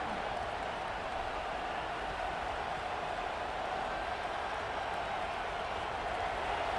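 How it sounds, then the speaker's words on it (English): Steady, distant roar of a college football stadium crowd at a Texas A&M versus Texas game, a dense wash of cheering noise that stays even throughout. "It's early, but this crowd is fired up. Listen to this noise here."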